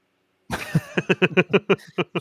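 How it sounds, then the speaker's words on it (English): A fit of coughing from a woman nearby, starting with a rough burst and settling into a rapid series of about a dozen short, regular coughs. "Just cough my brains out."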